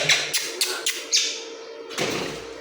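A pet myna bird giving a series of four or five short, sharp squawks close by, then a brief rustling thump.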